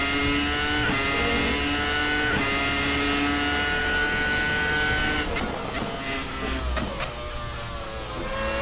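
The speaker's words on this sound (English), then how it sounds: "This car just wants to scream, just begging for you to get on the throttle." Race car engine at the Imola circuit, a loud sustained high-revving drone that holds steady, then breaks into quick gear-change stutters near the end, alone with no talk.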